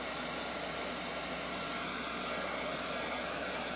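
A hair dryer blows steadily on wet paint covering a craft piece for a beach scene, its close, loud broadband whoosh running unbroken from start to end with no speech.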